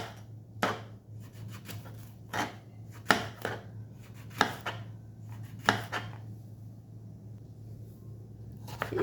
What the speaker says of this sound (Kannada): ಸಣ್ಣದಾಗಿ ರೌಂಡಾಗಿ ಕಟ್ ಮಾಡಿ ಇಟ್ಕೊಳ್ಳಿ